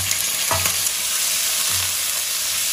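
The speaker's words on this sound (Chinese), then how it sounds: "接下来我们再炒一个这个乌鱼啊，葱姜跟小米辣， 炒香后放入这个切好的肉段，" Cuttlefish pieces stir-fry with scallion, ginger and chili in a hot wok, a loud constant sizzle broken by a couple of spatula scrapes and clanks, no one talking.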